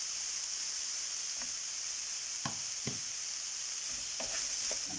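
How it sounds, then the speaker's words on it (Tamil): Onions, garlic and ginger sautéing in a pan for a Chettinad-style mutton curry give a steady, soft frying hiss, with a few light scrapes of a spoon against the pan and no talking. "வதக்கி விடணுங்க வெங்காயம் எல்லாம் நல்லா வதங்கிடுச்சுங்க"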